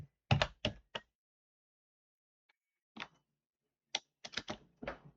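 Java code is typed on a computer keyboard in short bursts of crisp, close key clicks separated by silent pauses, with no talking.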